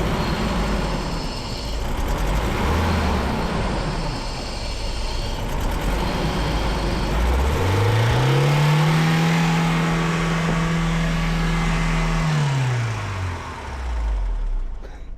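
A rusty BMW E30's engine roars with a stuck throttle, loud steady running that surges into a sustained high rev for several seconds before dropping back down.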